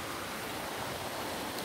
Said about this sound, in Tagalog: Lakas ang tubig ngayon kasi nga ulan.